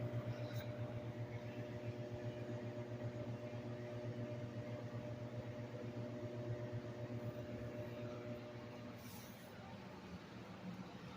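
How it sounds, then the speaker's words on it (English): Hamilton Beach microwave oven running steadily with a low droning hum and faint mechanical whir throughout, holding a cup with chicken and turkey, with no talking over it. "the microwave is spinning so fast."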